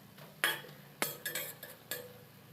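A utensil stirs prawns frying in oil in a pan for a Bengali prawn dish, giving a few faint, separate clinks and scrapes against the metal at uneven intervals.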